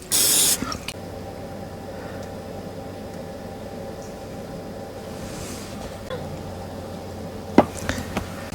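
At a dispersed truck campsite, cooking spray hisses onto a waffle iron in one short, loud burst, followed by a quiet background with faint clicks and light clatter.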